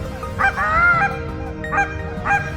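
A flock of geese honking during a goose hunt, several short nasal honks in bursts, fairly close and clear over a low outdoor background.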